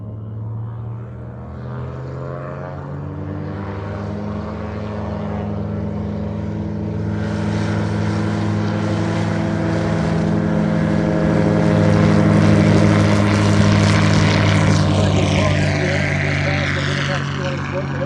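STOL airplane with a geared engine taking off in a short-takeoff competition, a loud steady propeller-engine drone that builds in power and pitch over the run, with a commentator talking faintly underneath.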